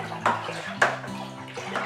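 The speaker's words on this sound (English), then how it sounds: "we need to give this a good stir" Homebrew lager ingredients stirred into water for a BrewBarrel Bavarian Lager kit, giving a few sloshing, swirling bursts of liquid in a container, close and moderately loud, with no talking.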